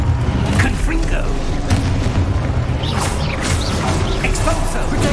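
The Confringo blasting spell fires during combat in Hogwarts Legacy on PC, producing loud, dense booming explosions layered over continuous game noise, with a voice audible beneath.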